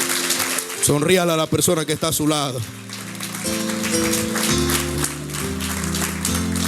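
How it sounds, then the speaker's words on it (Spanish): A church congregation claps in a steady patter that continues beneath a preacher's loud speech and then fades under sustained music. "Denle un aplauso al Señor."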